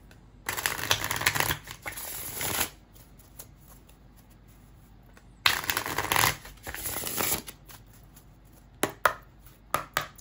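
Oracle cards shuffled for a tarot reading, heard as two long riffling bursts of a few seconds each, separated by quiet pauses, then a few short sharp card taps near the end, close and clear with no speech.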